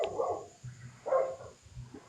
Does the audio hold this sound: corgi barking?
yes